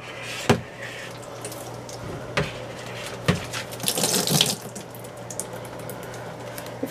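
A cleaning solution used as a bleach alternative is poured around the edges inside a trash can, making a splashing, trickling liquid sound close by with a few sharp knocks, loudest in one burst near the middle.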